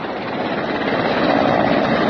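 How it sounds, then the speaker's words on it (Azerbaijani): A helicopter arrives to fight a fire, a loud continuous rotor and engine roar that swells slightly toward the end, close and with no voices. "Yanı qutarıb vertolyot gəlir yanğın söndürməyə."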